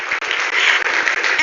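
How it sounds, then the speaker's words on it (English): A brief burst of steady applause from a summit audience welcoming a business leader, many hands clapping evenly and fairly loud for just over a second, with no voices. "Let's give him a real round of applause."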